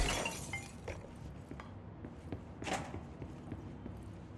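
Crystal shards shattering in the Control video game, with sharp glassy breaking bursts at the start and again midway, plus scattered clinks and crunches between them, fairly quiet overall.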